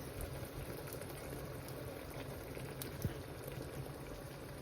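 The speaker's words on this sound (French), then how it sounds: "Comme ça va un peu plus mijoter." Meat and whole cherry tomato sauce simmers in a pot, a soft, steady bubbling and crackle that holds evenly throughout, with one small pop partway through.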